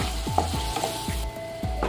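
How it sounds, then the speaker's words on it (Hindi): Paneer cubes seasoned with turmeric, red chilli powder and salt roast in a hot pan, a steady close sizzle broken by repeated scraping strokes of a spatula. "पनीर को भूनते हुए 2 से 3 मिनट हो गए हैं"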